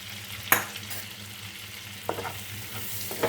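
Spoon stirring all-purpose flour (maida) in a pan, with soft scraping strokes and a few light taps against the pan over a low background hum.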